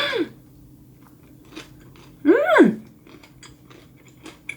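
Someone eating butter rice cake (butter tteok) at a PC room, with soft close chewing and biting sounds broken up by a couple of brief vocal sounds and pauses.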